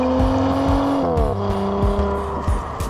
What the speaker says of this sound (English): the exhaust becomes much louder